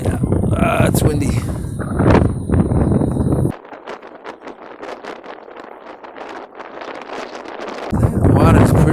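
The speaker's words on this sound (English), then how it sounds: "It's windy." Gusty wind buffets the microphone outdoors beside a shallow, dirty-looking sea during a bike ride in Fukuoka, Japan, roaring steadily and loud with heavier blasts at the start and end.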